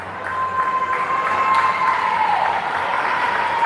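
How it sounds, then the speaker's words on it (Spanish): Supporters of Asturiano cheer and applaud in a dense, steady crowd roar at a women's futsal playoff quarterfinal against Sportivo Barracas, with a thin whistle-like tone running through the noise. "Los aplausos de la hinchada asturiana."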